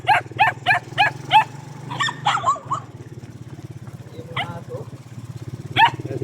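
A dog barks in quick bursts of four or five loud yaps, then a few more scattered barks, over a constant low motor hum, with someone talking faintly in the background.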